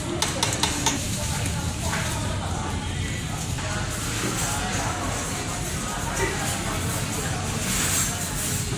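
Noodles fry loudly in a busy stall kitchen in Batam, with constant close sizzling and the clatter of stirring and scraping in the pan. Background chatter and bustle run underneath.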